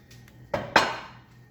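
Two sharp metallic clanks, close together, ring out briefly as a pan is set down or knocked, then fade.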